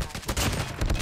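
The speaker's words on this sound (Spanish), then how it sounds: "La Odin es un arma que dispara algo lento." The Odin assault rifle in Call of Duty Mobile fires a rapid run of loud, close shots with sharp repeated cracks, packed densely into about a second.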